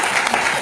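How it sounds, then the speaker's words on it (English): Brief burst of applause from a community league debate audience, steady clapping from a seated crowd. "give yourself a round of applause"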